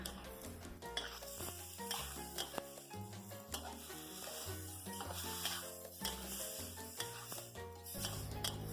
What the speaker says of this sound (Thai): เราก็ผัดให้เข้ากันนะคะ